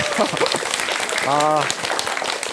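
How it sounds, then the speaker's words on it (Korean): An audience applauds during a mentoring lecture event. The clapping is a continuous, fairly loud patter, and a voice rises briefly over it midway. "여러분들 5번 내내 박수 치시느라 힘드시죠?"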